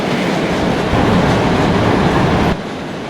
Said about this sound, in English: let's try to get this train into the station at least before the passengers start asking for their money back.